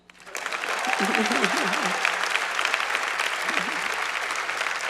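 An audience bursts into sustained applause at a formal awards dinner, a dense, loud clapping that starts abruptly and keeps a steady roar, while a voice speaks faintly underneath.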